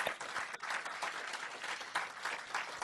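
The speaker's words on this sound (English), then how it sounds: "How about a big round of applause for this massive feat?" An audience applauds at the launch of the linkage between India's UPI and Singapore's PayNow payment systems, an even, sustained patter of many hands, fairly soft and distant-sounding, with no speech over it.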